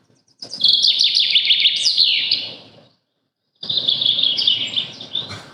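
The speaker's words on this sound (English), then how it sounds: "Forest sounds" A nature-sound recording of a forest: birds chirp and tweet in busy overlapping songs, pause briefly into silence, then resume with more twittering calls over a soft background hush.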